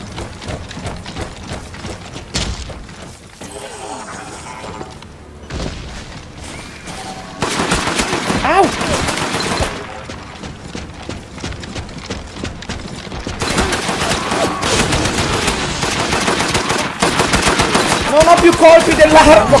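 Turret machine-gun fire rattles in the online game DeathGarden, dense rapid bursts that start sparse and build into loud, sustained volleys toward the end, layered with other game effects and some voices.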